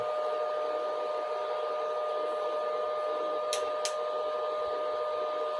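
A steady, even whirr of a small blower fan on a stove burning used oil and cooking oil, running close by, constant throughout, with two quick faint clicks near the end.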